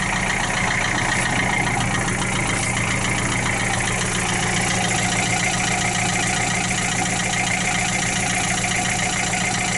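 A 1966 Austin London taxi engine, started for the first time in years, idles steadily with a continuous low rumble and a faint ticking texture throughout, with no voices over it.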